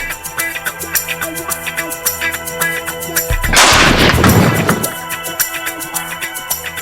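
A single loud rifle shot from a Musgrave Field Delux .308, fired at a Gemsbok bull during a hunt in Namibia, bursting sharply over the outdoor background and fading over about a second and a half.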